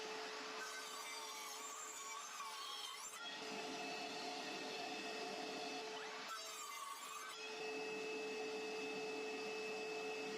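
A cordless miter saw whines steadily and bites through bamboo in two passes, with a rising grinding tone during each cut, loud and close.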